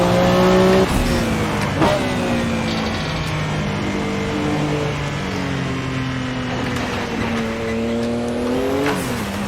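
A Porsche 962C race car in a sim racing game roars at close range, its turbocharged engine revving and shifting through gears in rising and falling sweeps, with brief tire squeals and boost bursts.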